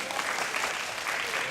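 Church congregation at a Korean sermon on the tabernacle gives a short burst of steady applause, many hands clapping together fairly close and loud, with no voices over it.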